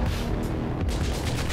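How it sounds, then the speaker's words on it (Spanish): Rapid video game gunfire and booms from the game Katana Zero form a dense, continuous barrage of shots and explosions, loud and unbroken throughout. "Ahora viene la caga de tiros."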